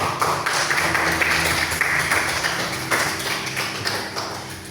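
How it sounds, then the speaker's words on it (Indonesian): A group claps together in a classroom session, producing a steady, dense patter of hands that stays fairly loud throughout, then gradually thins out toward the end. "Tepuk tangan untuk kita semua dong"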